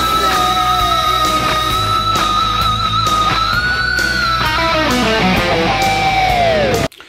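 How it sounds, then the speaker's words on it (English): Electric guitar solo, squealing pinch harmonics bent upward over a dense repeating delay, loud and continuous with a full band-like wash underneath before cutting off abruptly at the end. "So the solo kicks off with these really cool pinch harmonics with bends."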